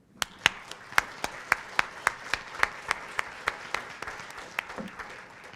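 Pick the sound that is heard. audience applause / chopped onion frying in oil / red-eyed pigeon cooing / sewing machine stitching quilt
audience applause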